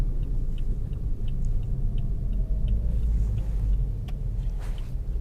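A Toyota Vios taxi converted into a rally car, its 1500 cc engine driving with a steady, loud low rumble that holds throughout without pause, with no voices over it.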